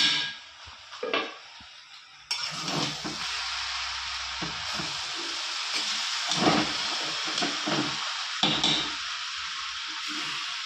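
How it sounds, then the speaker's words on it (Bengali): Shredded cabbage fries in a pan, muffled at first; then a lid lifts and a loud, steady sizzle swells out, broken by scraping stirs and occasional louder crackles. "বন্ধুরা আবার চলে এসেছি, ঢাকনিটা তুলে আবার একটু নেড়ে চেড়ে দেব।"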